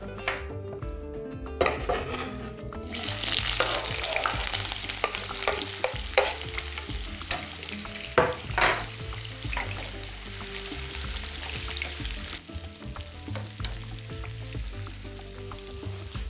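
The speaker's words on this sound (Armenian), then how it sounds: "Խոր խոզիկը, այսինքն տապակված ճարպը պահում ենք" Pork fat sizzles in a pan while pork ribs are being cooked, a steady frying hiss broken by stirring scrapes and occasional utensil clatters, close and fairly quiet.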